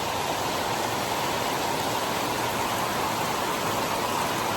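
Heavy rain pours steadily on a mountain in Thailand, a dense, continuous hiss that stays loud and unbroken throughout with no voices.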